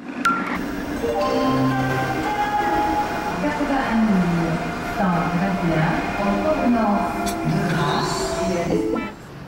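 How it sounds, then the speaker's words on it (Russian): Train wagons rumble and clatter along the rails in a continuous roll, with a voice talking over the moving train. "Вагоны по рельсам застучали"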